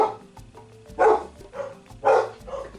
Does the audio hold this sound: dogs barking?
yes